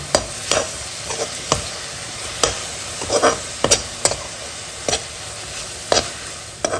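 A spoon stirring ginger garlic chili paste with cumin and garam masala in a hot pan, steady sizzling under repeated sharp scrapes and taps against the pan, close and alone.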